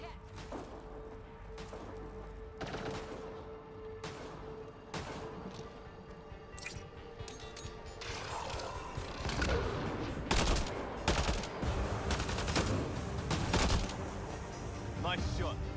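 Gunfire in the sci-fi video game Mass Effect: Andromeda, repeated sharp shots and bursts that grow denser and louder toward the end, with game sounds underneath and people talking at times.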